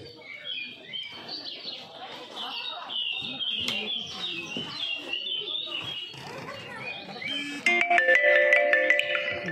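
Many small birds chirp and twitter inside a decorative cage at a festival pandal during a puja celebration, a busy layered chorus of high calls throughout, with a burst of brighter tonal sound near the end over crowd background.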